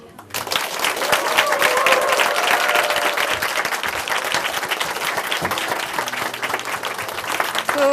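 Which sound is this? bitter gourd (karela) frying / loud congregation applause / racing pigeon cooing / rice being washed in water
loud congregation applause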